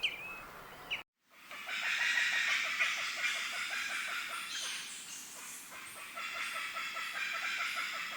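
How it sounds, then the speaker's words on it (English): Guinea fowl call in a steady series of harsh, rhythmic chattering notes, moderately close and continuous over several seconds, with no voices present. "Number 9 is Guinea Fowl."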